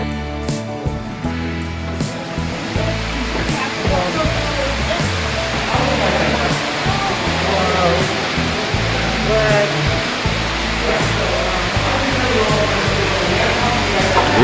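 Ruby Falls, a tall underground waterfall inside a cave, roars with a constant broad wash of falling water echoing in the chamber, with faint voices of visitors mixed in.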